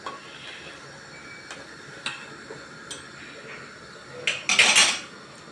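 A spoon stirs a potato dish with onions and hot peppers in a metal pot, making sparse clinks and scrapes against the pot. The clatter grows louder near the end, close by, and no one speaks.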